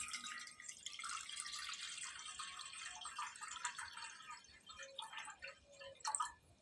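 Water is poured into a pot to boil cassava, a faint continuous trickling splash with small drips, quiet and close, swelling briefly toward the end.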